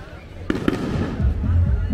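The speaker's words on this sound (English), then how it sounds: "And they have the fireworks." Fireworks for a town event in Chalchuapa, El Salvador, burst in two sharp, distant-sounding cracks followed by rumbling echoes, with people talking nearby.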